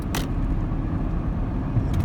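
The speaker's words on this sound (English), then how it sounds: "So around 40, 45 is when the truck is in its highest gear and you know it's under load" A truck engine running in its highest gear under load around 40 to 45, heard as a steady low rumble with road noise from inside the cab, even and continuous.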